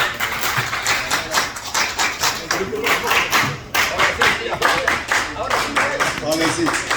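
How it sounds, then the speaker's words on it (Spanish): A crowd at an APRA party event in New York claps for Mauricio Mulder, with steady rhythmic applause and voices mixed in throughout. "Volvamos a dar un fuerte aplauso a nuestro compañero Mauricio Müller."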